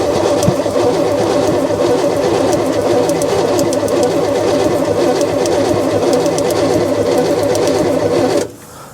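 An old car engine cranks over steadily under the hood of an unfinished project car, a continuous loud mechanical churning with rapid rhythmic pulses that runs for about eight seconds, then cuts off abruptly, leaving quiet.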